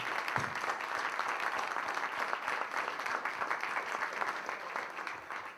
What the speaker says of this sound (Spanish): un aplauso para los compañeros y muchas gracias por estar